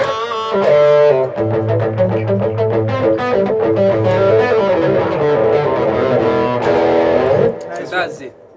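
A distorted electric guitar set to about 23% gain plays a steady picked riff, loud and close, with sustained notes ringing throughout before cutting off near the end.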